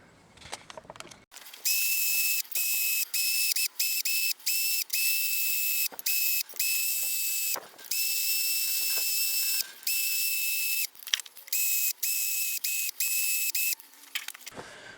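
Wire wheel brushing a forged wrench, a loud high-pitched whirring scrape that starts and stops repeatedly in bursts of varying length, with brief quiet gaps between contacts.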